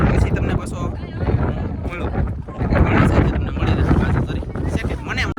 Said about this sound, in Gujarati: અત્યારે પાછું સટે નથી હાલતો કેમ કે પવન થઈ ગયો છે